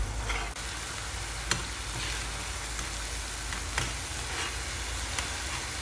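Tomato sauce with chili flakes simmers in a pan, giving a steady close sizzle and bubbling, with occasional spoon stirs and light scrapes throughout.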